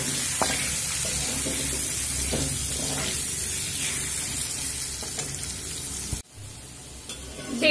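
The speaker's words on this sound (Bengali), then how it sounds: "আলুগুলো লবণ হলুদ দিয়ে ভেজে নেব" Cut potatoes fry in hot oil with salt and turmeric, giving a steady sizzling hiss with some stirring scrapes that drops off sharply near the end.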